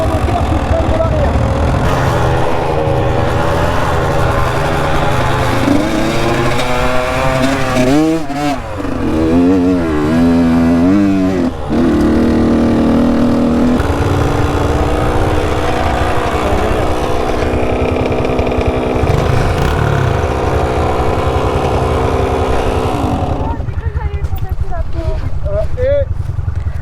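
A dirt bike engine drones steadily up close while descending a slope, its pitch rising and falling as it engine-brakes, with a person talking over it.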